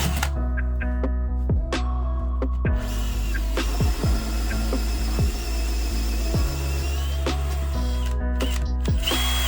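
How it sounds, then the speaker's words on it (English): A Milwaukee Bulldozer hole saw bit drills a hole during a 115-year-old bathroom remodel. The drill motor whines steadily and loudly throughout, with repeated pitch swoops as the bit bogs down and speeds back up. "All right, let's see if we can drill a hole this time,"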